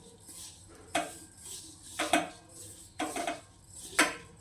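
Spoon scraping and clinking against a steel bowl while pickle spice mix for gunda mango pickle is stirred, four distinct scrapes about a second apart, close and fairly quiet.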